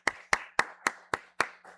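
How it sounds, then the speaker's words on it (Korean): Hands clap in a church congregation to welcome newcomers. Six or seven sharp, close, evenly spaced claps sound alone in a quiet room, with no voices. "우리 박수로 환영하도록 하겠습니다."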